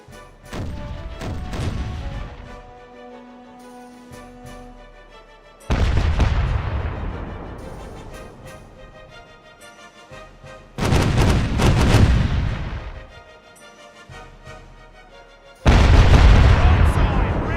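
Cannon broadsides fired from a sailing ship's left side in the pirate game Caribbean Legend, four loud booming volleys spaced several seconds apart, each with a rolling decay between them.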